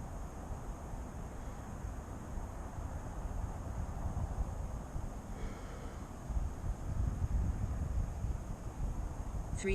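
Gusty outdoor wind buffeting a drone pilot's microphone on a windy day, a continuous rough rumble with uneven surges and no speech.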